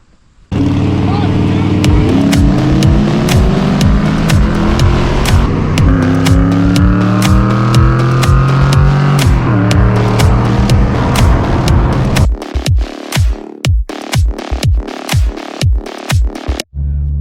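A 2017 BMW M240i with a Gepard titanium single-outlet exhaust fires up loudly and revs, its exhaust note climbing and falling, then breaks into a series of sharp, rhythmic blips and pops near the end.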